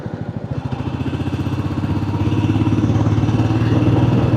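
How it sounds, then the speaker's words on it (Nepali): A motorcycle engine pulls hard at full throttle on a mountain road, a steady mid-pitched drone with rapid firing pulses that swells gradually louder and rises in pitch as the bike accelerates, heard close with no talking. "बाइकको साउन्ड पनि कस्तो मिठो आइरहेछ"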